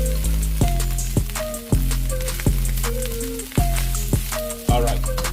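Chinese fried rice sizzles loudly in a hot pan, broken by sharp, regular scrapes and flips about every half second, close and with no talk.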